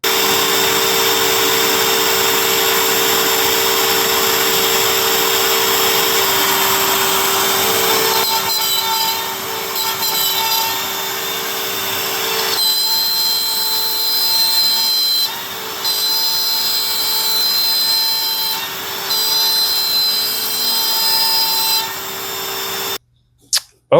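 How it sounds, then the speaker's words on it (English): A CNC machine bit cuts white oak, a loud continuous high whine with steady tonal harmonics and a broad noisy rush, running for about twenty-three seconds before stopping abruptly. "I'm planning on slowing the bit down for the actual white oak."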